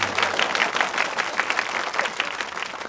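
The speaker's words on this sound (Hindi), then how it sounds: "तालियां।" An audience at a Hindi comedy performance applauds, dense clapping sustained and fairly loud throughout with no talking.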